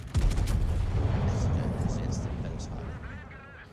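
Heavy ship guns boom in a naval battle game, a loud burst at the start rolling into a long low rumble that slowly fades, with a voice talking over it.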